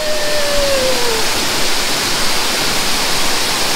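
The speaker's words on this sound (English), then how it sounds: "Look at those waterfalls." Waterfalls roar in a broad, steady wash of loud rushing water that fills the whole stretch, with a faint whistle-like tone at the start.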